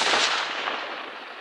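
A .223 Remington rifle fires at an outdoor range while shooting clay pigeons at 500 yards, one loud, close report whose sharp blast fades into a broad, rolling echo over about a second and a half.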